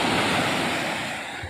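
Strong ocean waves at high tide roar as a dense, continuous wash of surf on a beach at Impanta, loud and close, with wind noise mixed in.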